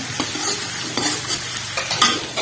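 Onions frying in a pan while being stirred, a steady loud sizzle broken by repeated scraping strokes of a spoon against the pan, close up with no voices.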